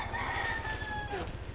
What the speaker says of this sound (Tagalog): Ito may manok.